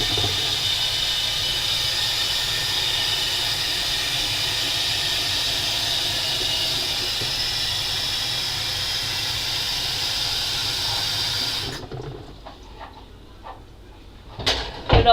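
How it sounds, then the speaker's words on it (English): Tap water runs in a strong, steady hiss into a cooking pot in a home kitchen for about twelve seconds, then shuts off, followed by light clinks and handling noises. "I'm going to fill it with nice water."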